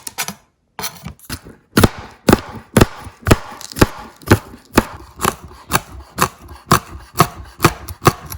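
Green onions, coriander and a green chili being chopped with a knife on a board: a steady run of crisp, evenly spaced strokes, close and clear, after a brief pause at the start.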